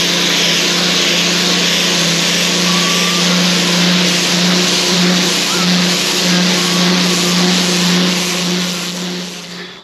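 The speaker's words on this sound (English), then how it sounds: "So yeah, the power washer stoked up." Power washer running steadily in a calf shed, a loud, even motor whine with a strong hissing spray that holds for the whole stretch and eases slightly at the end.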